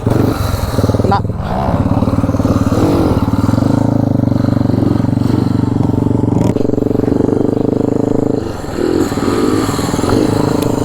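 A Bajaj CT 100 motorcycle engine runs loud and close throughout, with steady throttle and revving during wheelie stunt training in Salem, and a brief dip near the end; people talk over it.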